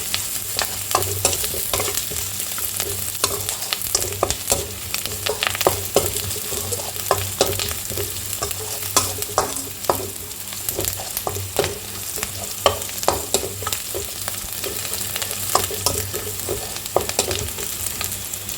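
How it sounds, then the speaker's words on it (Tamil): Onions sautéing in a hot pan for drumstick sambar, giving a steady, close sizzle and frying hiss with frequent stirring scrapes throughout. "வெங்காயம் வதங்கட்ட ஒரே ஒரு நிமிஷம்."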